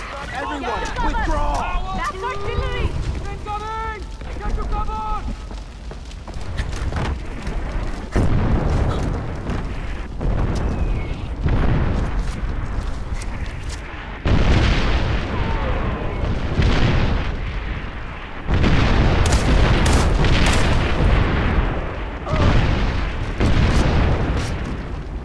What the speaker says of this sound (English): Everyone, withdraw! That's artillery! Incoming! Get to cover!